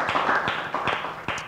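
A handful of scattered claps from an audience at a youth basketball association presentation, close and moderately loud, a few sharp hits spread irregularly over a second and a half.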